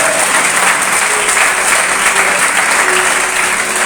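A church congregation claps steadily and loudly throughout, a dense, even wash of applause from many hands in a worship hall, with no pauses.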